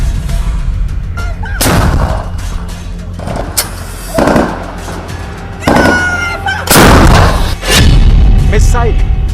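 Artillery shells fire and explode in a series of heavy booms and blasts, several loud bursts with rumbling tails spread across the stretch, some overlapping.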